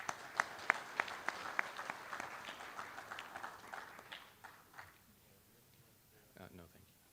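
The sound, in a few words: audience applause for Post 331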